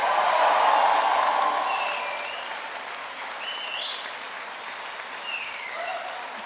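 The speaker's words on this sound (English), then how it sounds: "Come on, a proper cheer." A university graduation audience cheers and applauds, starting in a loud, dense burst of clapping and shouts that eases into steady sustained applause with a few whistles.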